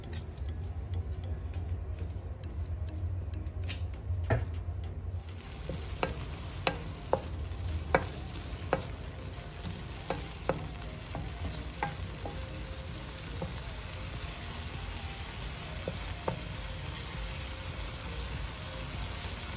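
Noodles toast with honey in a pan under a steady low sizzle, while a utensil stirs and taps against the pan in irregular clicks. The sounds are moderately close and quiet, and no one speaks.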